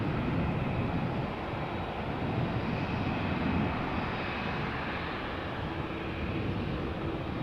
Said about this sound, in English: Airbus A220-300. 3-year-old airplane, first flight was in December 2019.